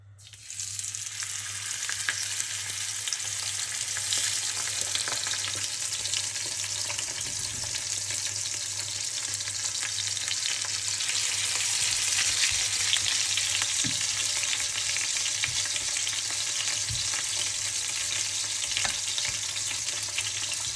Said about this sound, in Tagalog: Ipiprito na natin yan.